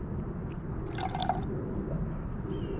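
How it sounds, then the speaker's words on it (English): Water is poured into a pan of pasta and garden vegetables in tomato sauce, a soft trickling splash over a steady low background hum, close and moderately quiet. "Add some water to it."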